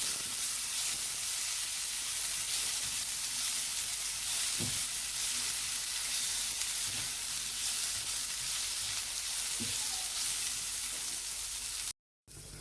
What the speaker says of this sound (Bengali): মুগ ডালটা প্রথমে ভেজে নেব